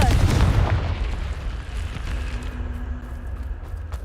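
A Confringo blasting spell in a Harry Potter video game erupts as a loud, punchy explosion, followed by a rumbling, crackling decay that lingers for several seconds, with no voices over it.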